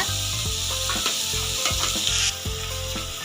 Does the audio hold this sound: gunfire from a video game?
no